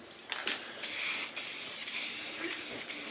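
Flat black paint for plastic is sprayed from an aerosol can onto a plastic car bumper in steady, close hissing bursts. The short pauses between bursts carry faint clicks from the nozzle.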